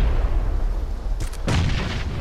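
Gunfire in the battle-royale shooter PUBG, heard as a few sharp cracks and then a heavier blast over steady rumbling game background noise.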